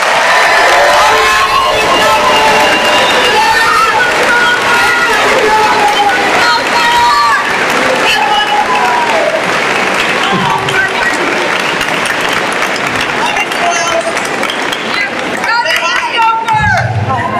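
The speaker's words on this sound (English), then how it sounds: "Can we give them a big round of applause?" Crowd at a school moving up ceremony applauds and cheers for the teachers, a loud sustained wash of clapping that fills the space, with voices and babble mixed in and a few shouts near the end.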